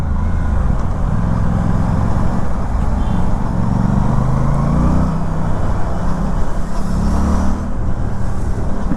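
Aprilia Tuono 457 parallel-twin motorcycle engine while riding: a loud, steady, rough drone with wind rush that holds throughout and gently shifts pitch as the throttle changes, with no talk.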